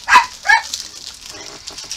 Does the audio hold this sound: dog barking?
yes